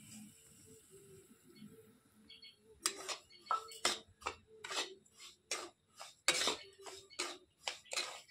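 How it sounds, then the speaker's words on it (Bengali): A spatula scrapes and stirs semolina frying in ghee in a pan, making quiet, rhythmic scraping bursts that grow steady after a softer start. "এইভাবে নেড়ে চেড়ে সুজিটা ভেজে নিতে হবে।"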